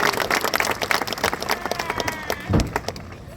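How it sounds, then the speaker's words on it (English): Applause from an audience at a high school graduation ceremony, a steady patter of many hands clapping with crowd noise throughout and a brief louder burst near the end. "Please give them a round of applause."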